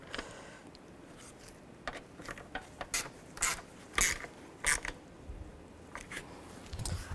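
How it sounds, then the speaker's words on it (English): A 7mm socket on a ratchet snugs down bracket screws on a 2011-15 Kia Sorento radiator cooling fan: a run of sharp, close clicks and ratcheting bursts in an irregular rhythm, with no talking. "You can also use a 7mm socket to tighten these down."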